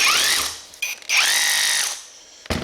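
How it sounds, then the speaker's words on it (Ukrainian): A Dnipro-M cordless rotary hammer drills with a 6 Ah battery, loud whining bursts that ramp up and hold for about a second, then stop, with a sharp knock at the end. "і пішов сверлити"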